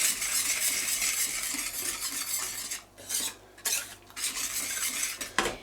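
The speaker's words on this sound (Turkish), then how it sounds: "Öncelikle bu malzemelerimizi ocağa açmadan güzelce karıştıralım" Labneh cheese and tiramisu ingredients stirred in a pot on a cold stove, a steady close scraping of a spoon against metal with clinks of cutlery, with brief pauses and a sharp knock near the end.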